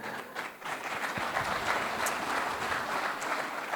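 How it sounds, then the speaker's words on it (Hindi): Sustained audience applause fills a studio during a televised Hindi interview with cricketer Harbhajan Singh, a dense steady wash of many hands clapping at even loudness throughout, with no talk over it. "देखिए आपने ताली बजवा दी"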